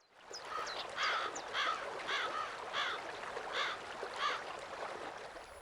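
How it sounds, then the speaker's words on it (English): Ambient birdsong along a railway route in Train Simulator, heard from the Kiha 130 on the Hidaka Mainline: a steady series of repeated chirping calls, about seven evenly spaced bursts, moderately loud over a constant background hiss with no talk. "I like the ambient bird chirping noises that you can hear throughout the route"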